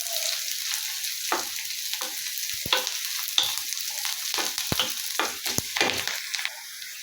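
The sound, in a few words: onion and green chili frying in pan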